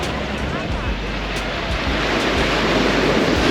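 Surf rolls onto Nai Harn beach, a small, busy stretch of soft sand, as a continuous wash of waves mixes with gusty wind noise on the microphone.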